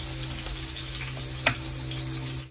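Onions sauté in a hot pan for mechado, giving a steady close sizzle with a single sharp clink of a utensil midway and no voices.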